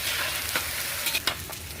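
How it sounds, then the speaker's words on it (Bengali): Ginger, cumin and green chilli paste sautéing in a pan for khichuri: a steady close sizzle of frying with a few scraping stirs of the spoon, no talking. "কাঁচা লঙ্কা আদা জিরে বাটা দিয়ে দিলাম দিয়ে আমি ভালো করে একটু কষিয়ে নেব"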